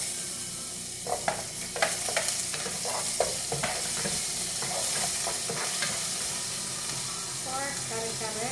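Pork kare-kare cooking in a pan: scraping stirs and clatter over a soft continuous sizzle, with a few brief voices in the background.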